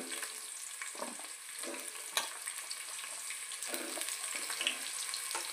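Carrot and green chillies fry in a pan for chicken pulao, giving a soft, close sizzle with intermittent stirring scrapes and light clinks over a faint steady hiss, no voices.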